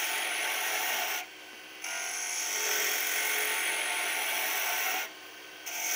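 A skew chisel planes a spinning wood blank on a lathe for a cheese serving board, making a loud, continuous rasping hiss that breaks off twice for short pauses.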